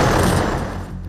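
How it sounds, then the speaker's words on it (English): Explosions in Gaza near news agency cameras, a loud close burst of rapid blasts and gunfire-like cracks that decays over about a second. "there were several explosions near the cameras of both agencies"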